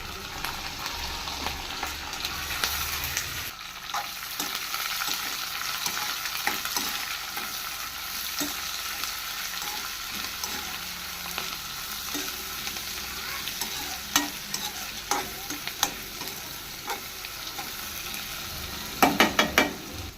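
Onion, curry leaves and green chillies fry in oil for a gongura curry, stirred with a spoon: a constant close sizzle broken by repeated scraping clicks of the spoon against the pan.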